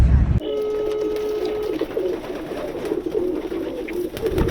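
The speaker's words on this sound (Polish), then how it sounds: "Ja jestem u gołębi. Słychać to jak wyją?" Pigeons coo steadily in a loft in a dense, overlapping chorus, close and fairly loud, with a thin electronic tone running underneath for the first moments.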